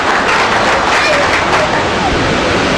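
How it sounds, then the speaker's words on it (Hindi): A crowd at a poetry gathering gives loud, sustained applause to welcome a poet, a dense, continuous wash of many hands clapping with crowd murmur mixed in. "आदरणीय श्याम कश्यप बेचैन जोरदार ताली से स्वागत किया।"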